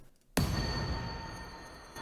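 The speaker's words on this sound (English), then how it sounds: "Another impact." An impact sound effect for a song production, a single sudden broadband hit after a short quiet moment, followed by a long noisy decaying tail.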